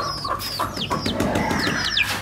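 Aseel rooster clucks and short calls repeat in quick succession, close by, with a few higher chirps mixed in over steady background noise.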